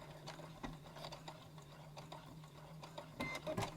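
A sewing machine putting a lock stitch into a drawstring bag, faint and soft, with a low steady hum and light ticking needle clicks, ending in a few louder mechanical taps.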